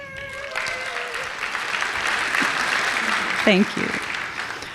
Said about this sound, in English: Hold your applause, there's a list.